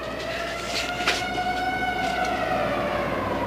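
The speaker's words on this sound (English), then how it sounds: "Why the sirens are still on?" A tornado warning siren wails, rising and falling steadily over a rumbling, noisy background, sounding somewhat distant and sustained throughout, in a TV soap opera scene.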